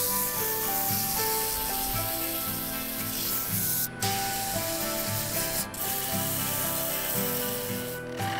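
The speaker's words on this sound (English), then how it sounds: "I sanded with 80 grit to check for tool marks" Coarse 80 grit sandpaper rubbing against a wooden bowl turning on a lathe, a steady continuous abrasive hiss that stays loud and close throughout, with two brief dips where the paper lifts away.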